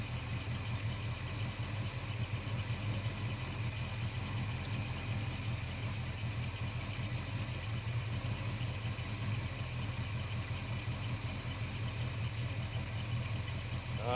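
A Holden HK car engine idles steadily with a heater core fault under repair, giving a constant low rumble close by that holds even and unbroken throughout, with no talking.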